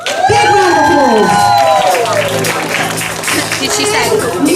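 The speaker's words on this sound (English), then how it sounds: "Big round of applause" An audience at a village Miss Meadowlark pageant claps and cheers for a candidate, a loud, dense burst of applause with whoops and crowd chatter, and a voice speaks over the start.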